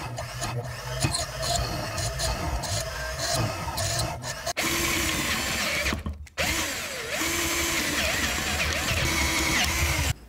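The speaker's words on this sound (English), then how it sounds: "Smaller holes were easier to fix because I could precisely drill them out." Power drill boring out small holes in a 3D-printed plastic gearbox base, a steady loud whirring grind running almost continuously with a brief pause midway.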